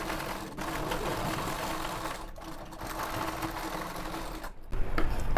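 A sewing machine stitches a chudithar lining in a fast, continuous rattling whir at close range, with a few brief pauses and a short fumbling noise near the end.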